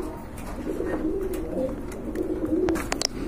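Pigeons coo softly in a dovecote at a market stall selling local and foreign breeds, the low murmuring calls repeating steadily over a busy background of distant chatter and occasional chirps.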